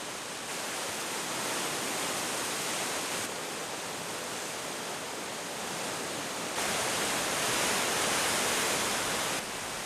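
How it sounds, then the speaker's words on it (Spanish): The Abiskojoka river in Sweden rushes through its valley swollen with summer meltwater, a dense, steady roar of flowing water that fills the whole stretch, with no voices. "El deshielo continúa en verano y nutre de caudalosas aguas al río Abiskojoka, que atraviesa el parque formando un valle."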